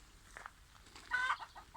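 A hen clucks softly nearby in a garden, a few short throaty calls over a faint outdoor background hum.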